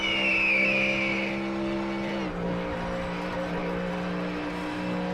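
A Corvette race car at a GTD series race roars at full throttle, a loud steady engine drone that shifts pitch partway through, its whine fading into a sustained lower growl.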